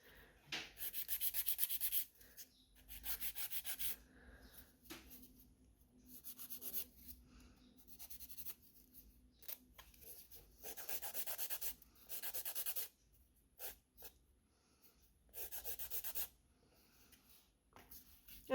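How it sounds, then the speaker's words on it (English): A file rasps over a sculpted fiber gel nail in repeated short bursts of scratchy rubbing, close and fairly quiet, with brief pauses between the strokes. "so just filing this one. Going to taper it a little bit more."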